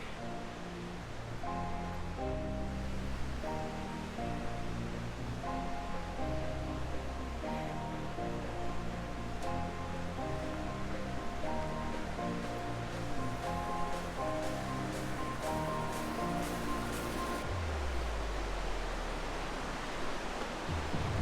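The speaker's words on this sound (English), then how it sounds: "we see the waterfall" Cascade Falls in Rocky Mountain National Park gives a steady rushing roar that fills the air, continuous and unbroken, with no voices.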